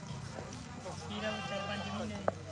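A five-month-old kid goat bleats with a wavering, nasal cry amid a busy crowd at the Dhanaula goat market, people talking and murmuring close by.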